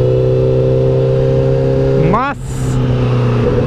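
A 2018 Honda CBR 1000RR Fireblade motorcycle idles with a steady hum, then gives one brief rising rev that quickly drops away, while someone talks over it.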